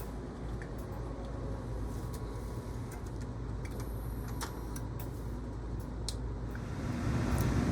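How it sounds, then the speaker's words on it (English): A laboratory centrifuge spins a 15 ml conical tube at 300 G, chilled to 4 degrees Celsius, giving a steady, loud mechanical hum and whir that holds constant and rises slightly near the end. "place the 15 ml conical in the centrifuge at 300 G at 4 degrees Celsius for 15 minutes with the brake on"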